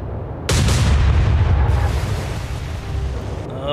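A naval gun fires at a submarine in the naval combat game Atlantic Fleet: one sudden loud boom followed by a long rolling rumble that slowly fades.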